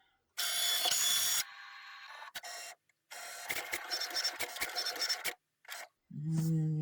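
A Cricut cutting machine drives a rotary blade through black felt to cut circles. Close, loud mechanical whirring comes in stop-and-start bursts with brief pauses, then ends in a low electronic tone.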